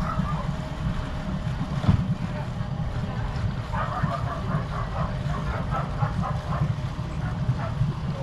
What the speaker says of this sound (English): here are all the boats taking off